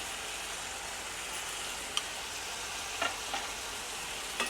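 Mushroom palya stirring and frying in a pan with cinnamon-clove powder, a steady soft sizzle with a few light scraping taps of the spoon, close and alone without talk.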